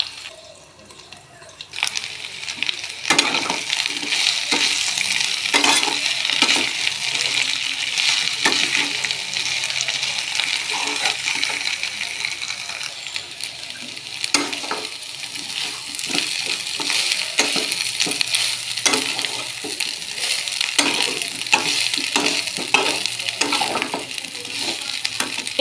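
Food sautéing (kosha) in a covered pan, heard as a steady close sizzle and frying hiss that runs throughout, broken by occasional clicks and stirring taps, with no talking.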